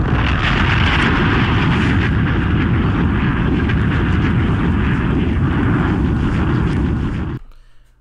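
A loud, sustained explosion sound effect rumbles with a deep, roaring boom that holds steady for about seven seconds, then cuts off abruptly, played from a soundboard button during a live crypto news stream.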